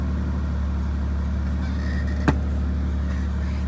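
A Ford Sport Trac engine idles steadily after a cold start, a smooth continuous low rumble heard close up with one brief sharp tick partway through and no talking.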